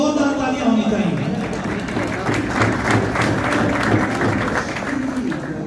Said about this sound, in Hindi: मैं चाहूंगा कि जेहलम फोरम के लिए एक भरपूर पुरजोश और जोरदार तालियां होनी चाहिए